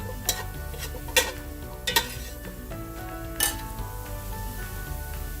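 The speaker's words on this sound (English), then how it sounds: "I'm going to put my mushrooms in first." Mushrooms cooking in oil in a pan for a creamy sausage pasta, with a steady soft sizzle running underneath and a few sharp clinks of a utensil stirring against the pan.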